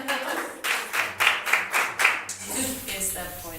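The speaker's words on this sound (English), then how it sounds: "Can you clap it one more time?" A group of people clap a short rhythmic pattern in unison, about seven sharp, evenly spaced claps, before voices take over at the end.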